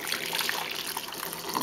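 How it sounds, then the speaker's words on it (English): Water pours steadily into a bowl during rose water making, a close, continuous splashing trickle with no voices. "I'm going to transfer this water"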